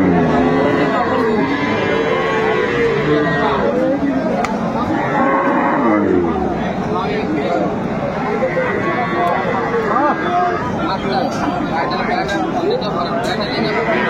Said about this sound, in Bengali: শাহিওয়াল জাতের গাভী বাছুর আমরা দেখছিলাম এখানে।